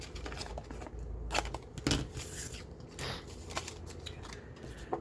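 Scissors snip through paper while trimming a grungy handmade folio, a few crisp close cuts with light paper rustling between them and no talking.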